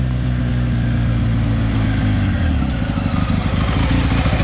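The engine of a 300hp Wildcat 4X side-by-side, fitted with a new radiator, idles loud and close with a throbbing beat, then breaks into choppy revving pulses.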